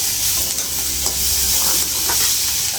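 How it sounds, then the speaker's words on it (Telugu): Food sizzles and fries steadily in a hot pan while being stirred, browning for an egg dish in a home kitchen; a loud, continuous crackle with occasional scraping stir sounds and no talking. "కూడా ఎర్రగా వేగినాయి బాగా, కలర్ వచ్చినాయి"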